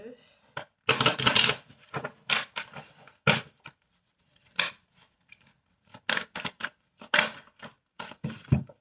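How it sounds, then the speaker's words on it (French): Tarot cards shuffled by hand, brisk bursts of riffling and flicking cards coming in uneven clusters with short silences between them, close and crisp, with some speech partly overlapping the bursts. "Je vais quand même les rebrasser un peu."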